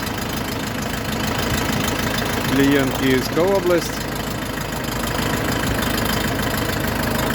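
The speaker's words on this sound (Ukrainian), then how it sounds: "Трактор новий, свіжий присвіжий, їде, заїжджає" A new tractor's engine runs steadily as the tractor drives onto a lot beside the Kyiv–Odesa highway, a constant mid-pitched rumble with a person speaking briefly over it.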